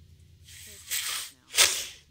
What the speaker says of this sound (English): Oh, this guy has the sniffles.